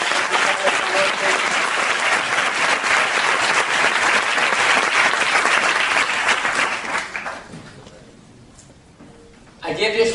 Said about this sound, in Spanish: De manera que, pues, un gran aplauso para Miguel y Pilar.